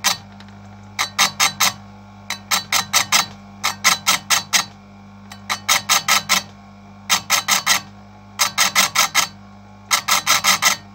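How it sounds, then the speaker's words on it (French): Hand file worked over a chainsaw chain's cutter tooth, giving close, crisp rasping strokes in quick bursts of four or five, with short pauses between each set and no talking. "Je vous montre comment ça s'affûte."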